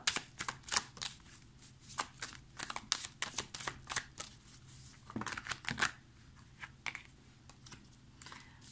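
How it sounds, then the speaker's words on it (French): Tarot cards being shuffled and drawn, a rapid run of close, crisp flicks and papery snaps in uneven bursts, with a dense riffle partway through, no voices. "Je vais tirer 3 cartes."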